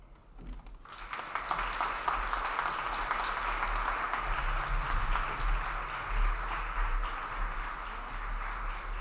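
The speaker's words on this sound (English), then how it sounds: "Another round of applause for Jason" An audience at a Disability Mentoring Day reception claps for a speaker, a moderate steady patter of applause heard from a distance, starting abruptly and continuing evenly with a low hum underneath.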